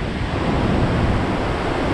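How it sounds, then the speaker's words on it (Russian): A steady, powerful roar of a waterfall in Yosemite National Park, broad and unbroken throughout, with no voices. "Так, очередной мост и вон еще один водопад"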